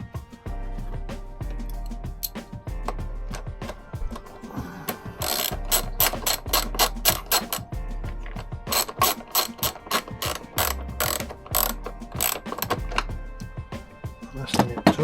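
A ratchet tightens a bolt onto a lug terminal in a camper van's 12-volt electrical system, giving rapid, close clicking pawl bursts in repeated runs with brief pauses between them.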